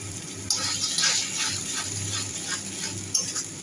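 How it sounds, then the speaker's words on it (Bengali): Onions fry with ginger, garlic and dried chilli paste, giving a steady close sizzle with scraping stirs and a few sharper clatters of utensil against the pan, with no talk over it. "এখন পেঁয়াজ ভেজে নিচ্ছি এবার আদা পেঁয়াজ রসুন শুকনো লঙ্কা পেস্ট"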